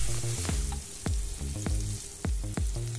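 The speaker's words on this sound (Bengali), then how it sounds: "নুন হলুদ চিনি দিয়ে একদম লাল লাল করে নারকেলটা ভেজে নেব" Grated coconut fries in hot oil with salt, turmeric and sugar, a steady close sizzle broken by rhythmic scraping strokes of a stirring spoon.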